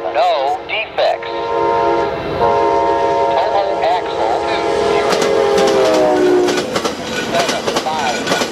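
Amtrak 59 passenger train passing eastbound on track 1, its horn sounding in long, loud harmonic blasts over steady rail rumble, with a rhythmic clickety-clack of wheels building as the cars roll close by.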